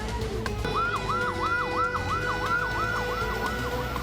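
Fire engine sirens wail in a rapid, repeating up-and-down pattern over the steady rumble of traffic, heading toward a blaze at a cooking oil factory in Medan.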